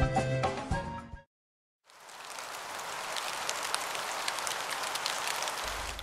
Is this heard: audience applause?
no